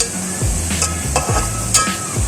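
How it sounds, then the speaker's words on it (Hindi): Raw chicken tipped into golden brown onions frying in a pot for chicken pulao, giving a sizzle with stirring scrapes and a few light knocks, close and moderately loud. "जब प्याज गोल्डन ब्राउन हो जाए तो इसमें चिकन ऐड कर दें।"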